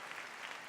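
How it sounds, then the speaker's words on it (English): Audience applauding at a university graduation ceremony, a steady even wash of many hands clapping at once, sustained and fairly distant for under a second with no voices over it. "let's hear a round of applause again for Dr."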